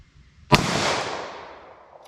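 A snub-nose revolver fires a single shot of CCI Uppercut .22 LR outdoors. The crack is sharp and loud, and a long echo trails away over about a second and a half. Nobody talks.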